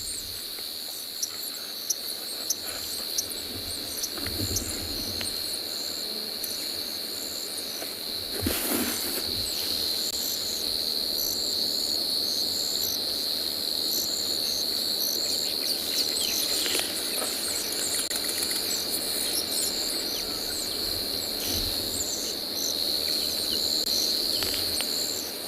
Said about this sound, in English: allow you to hear the crickets, the cicadas